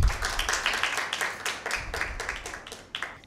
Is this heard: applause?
yes